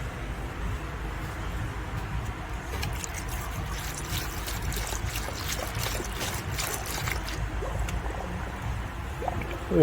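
Coolant pours into the cooling system of an overheating Dodge car, a steady close trickling and gurgling of liquid running on for several seconds, with no voices.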